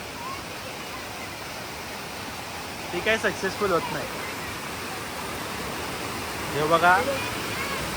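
A waterfall at Adai village near Panvel gives a constant broad rushing roar, with brief bursts of nearby talking rising over it twice.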